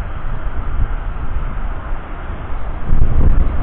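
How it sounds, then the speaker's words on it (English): Strong wind after a storm buffets the microphone in a constant low roar, with a heavier gust near the end. "Still windy out here."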